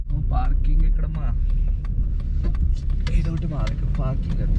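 Steady low engine rumble from cars moving through a Walmart parking lot, continuous and fairly close, with people talking over it throughout.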